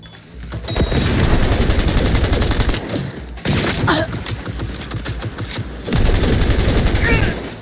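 Rapid automatic fire from a gun turret in the video game Cyberpunk 2077, loud sustained bursts broken by short pauses, with someone speaking over the shooting.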